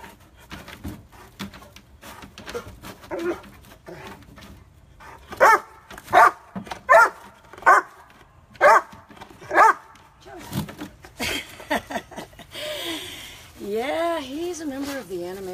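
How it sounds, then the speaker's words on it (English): A dog barks repeatedly in a steady series of sharp barks, with a person talking before and after. "And he will bark up there."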